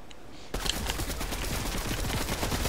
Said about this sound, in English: I'm shooting down like crazy